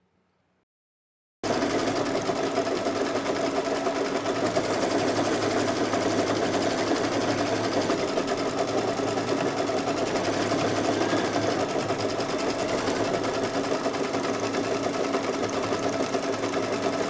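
After a brief silence, an embroidery machine sews a placement stitch on background fabric, giving off a steady, continuous mechanical whir and rapid needle chatter at moderate volume.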